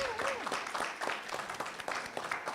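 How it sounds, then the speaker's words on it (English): An audience at a school board meeting applauds in a steady patter of many hands, with a voice or tone briefly audible near the start and some crowd murmur under the clapping. "Let's give her a round of applause."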